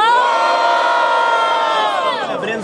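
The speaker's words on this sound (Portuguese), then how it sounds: "Barulhos, barulhos pra quem gostou das rimas do Breno" A dense crowd at a student rap battle in Guarulhos, São Paulo, roars and cheers in one sustained, loud burst of shouting that holds steady before tapering slightly at the end.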